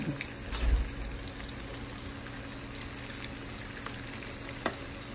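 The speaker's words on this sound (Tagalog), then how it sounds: "Kaya haluin natin para maluto siya." Egg being stirred into spicy pork sisig frying in a hot pan, a steady crackling sizzle throughout with a soft thump of the utensil near the start and a brief click later.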